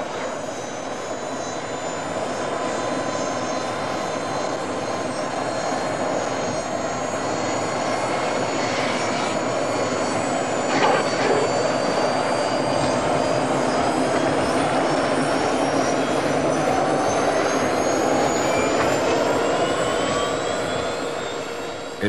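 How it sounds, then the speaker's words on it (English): A loud helicopter engine drone hangs overhead for the whole stretch, swelling slightly in the middle with a steady whine on top. "the noise of the helicopter will frighten him away"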